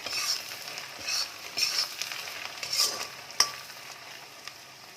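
Capsicum and carrot stir-fried for chicken fried rice, a steady close sizzle broken by repeated scraping stirs of the spatula, with a sharp clink near the middle.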